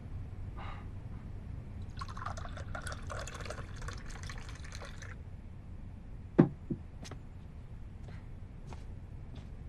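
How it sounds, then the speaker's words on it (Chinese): Water poured into a glass indoors, a soft bubbling fill of a few seconds, then scattered drips and clinks, faint against a quiet room. "我给你倒水"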